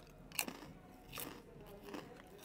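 Crunchy rice apple puff snacks from a DM drugstore being bitten and chewed: three crisp crunches about a second apart, close and quiet, with no speech.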